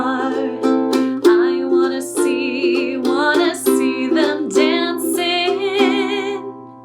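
Ukulele strumming of a song from The Little Mermaid, an even, rhythmic pattern of bright strums. A singing voice carries the melody over it.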